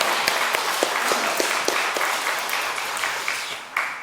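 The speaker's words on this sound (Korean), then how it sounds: "함께 박수로 하나님께 영광을 돌리겠습니다" A church congregation claps together during a Sunday worship service, distinct individual claps at first swelling into steady collective applause, fairly close and loud with no talking.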